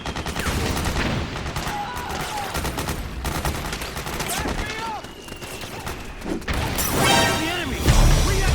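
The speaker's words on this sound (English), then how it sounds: "Suppressing fire!" Rapid suppressing gunfire in the video game Metal Gear Solid 4 on PS3, a dense, loud, continuous volley with heavy impacts and crashes, mixed under shouting voices.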